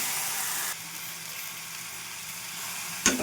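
Washed gongura leaves frying in a pan for pickle, a steady bright hiss throughout that drops slightly after the first moment, with a short clink near the end.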